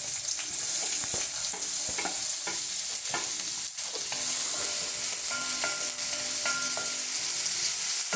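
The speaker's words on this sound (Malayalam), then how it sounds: "ഞാൻ ആ സവാള ഇട്ട് കൊടുക്കുവാണ്." Chopped onions fry steadily in hot oil in a pan, a continuous close sizzle broken by occasional clicks from stirring.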